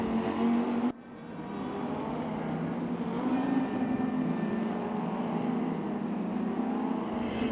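Race car engines in the RaceRoom sim racing game at the Nürburgring drone loudly and steadily, a buzzing high-revving tone that cuts briefly then resumes, sustained and close with no talking.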